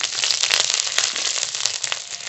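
Garlic tempering crackles in hot oil in a wok after cumin goes in, a busy, close spatter of sharp pops and sizzles, loud and continuous.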